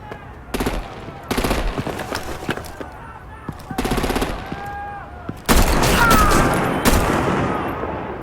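Sharp bursts of automatic gunfire and artillery fire in Batman: The Enemy Within Season 2, Episode 2 'The Pact' arrive in several separated volleys, ending in a longer, denser barrage.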